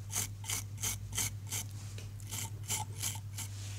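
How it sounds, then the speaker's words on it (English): Old toothbrush brushing out fly-tying fibres on a hook for a sandhopper pattern, a steady series of about ten quick scratchy bristle strokes, close and clear, with a low constant hum underneath and no talking. "with an old toothbrush begin to brush out the fibres"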